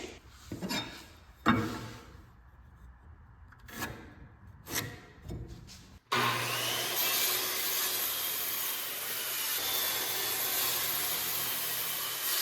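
Screws are driven into extra drywall support pieces during a wall build: several short, separate power-driver bursts over a few seconds, then a sudden, steady, loud broadband roar that continues to the end.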